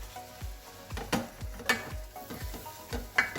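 A spoon stirs flour into melted butter in a pan over medium heat for a roux, scraping in a steady rhythm of close strokes over a gentle sizzle.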